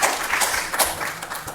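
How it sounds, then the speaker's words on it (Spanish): Applause from a conference audience welcoming a speaker at an international colloquium on Andean and Amazonian epistemologies: a brief, steady burst of many hands clapping at moderate loudness, with no voices over it. "Lo recibimos con un aplauso"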